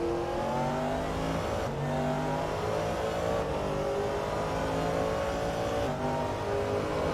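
A heavy race car's 6.2-liter V8, around 600 horsepower, accelerates hard at Mount Panorama, with a loud, steady, close engine roar and rising harmonic tones that hold for the whole stretch.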